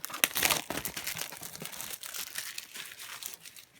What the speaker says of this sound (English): once I get the cellophane off here